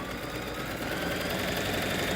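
Bernina sewing machine stitching through thick foam and fabric layers, a steady fast mechanical whir with dense rapid ticking, even and continuous throughout without change in pitch.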